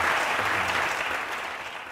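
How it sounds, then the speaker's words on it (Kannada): A studio audience on an Aap Ki Adalat courtroom-style talk show applauds steadily, a dense wash of many hands clapping together that fades slightly toward the end, with no speech over it. "ಜನರು ಈ ವಿಚಾರಕ್ಕೆ ಚಪ್ಪಾಳೆ ತಟ್ಟಬೇಕು ಅಂತ ನಾನು ಆಶಿಸ್ತೀನಿ"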